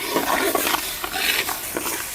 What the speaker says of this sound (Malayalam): പരിപ്പ് മുഴുവനും ഇട്ടിട്ട് നന്നായിട്ട് കൈവിടാതെ ഇങ്ങനെ ഇളക്കി വറുത്തെടുക്കണം